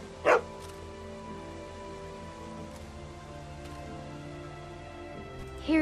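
Two short sharp dog barks, one near the start and one at the end, from a dog in the video game The Walking Dead Season 2, set against a steady hum of rain.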